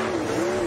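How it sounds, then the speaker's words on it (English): NASCAR Next Gen race car doing donuts on worn Goodyear Eagle tires, engine holding a loud steady drone with a faint edge of tire squeal, close and continuous through a brief moment. "As Christopher burns down a used set of Goodyear Eagles."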